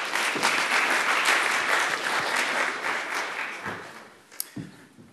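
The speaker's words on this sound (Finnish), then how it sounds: "Niko ansaitsee aplodit." Audience applause for Niko Engström of Uhma Oy at the launch of the Urapolut game, a dense sustained clapping that thins and fades toward the end, with a single sharp tap near the close.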